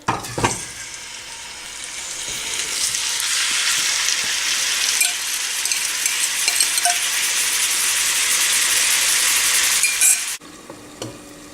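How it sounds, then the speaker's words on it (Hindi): Marinated chicken fries in a little oil in a frying pan for Persian rice, a bright continuous sizzle building after a clatter at the start and holding steady, then cutting off near the end. "चिकन जो हमने मैरिनेट करके रखी है उसको थोड़ा सा ऑयल डाल के फ्राई पैन में फ्राई कर लेंगे"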